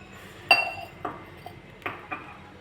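Glass and cup clinking as tea is served: a sharp ringing clink, then a few lighter taps and knocks of glassware and crockery set down close by, spaced irregularly over a quiet background.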